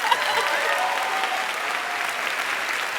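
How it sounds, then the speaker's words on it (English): An audience claps steadily at a live self-help comedy talk, a full, even round of applause that holds at the same level from start to finish with no voice on top. "Give a round of applause just for that."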